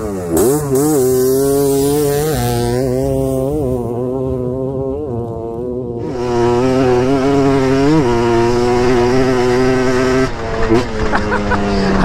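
Yamaha TRI-Z 250 three-wheeler revving on sand dunes, a loud, close, buzzy engine whose pitch climbs and dips through several pulls, with a brief lull before it roars up again and holds steady.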